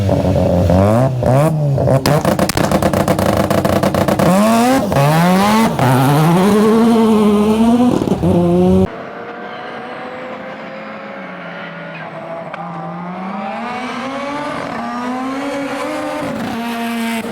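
A 2003 Mitsubishi Lancer Evo 8, a former family car converted for tarmac rallying, races past: loud, close engine revving through gear changes with rising and falling pitch and brief tyre squeal, then quieter, more distant revving as it drives away.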